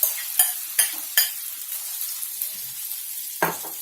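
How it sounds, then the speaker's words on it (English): Chilies and diced potatoes frying in a pan with a sizzling hiss, broken by a few sharp stirring clatters near the start and one near the end; no voices. "We want these chilies to fry a bit."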